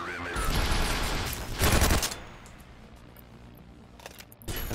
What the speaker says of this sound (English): dropped a turret and annihilated them with a machine gun